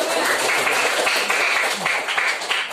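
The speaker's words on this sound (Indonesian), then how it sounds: "Ayo kasih tepuk tangan yang meriah." A classroom of students bursts into lively applause, loud, close and continuous clapping from many hands, with a few scattered voices mixed in.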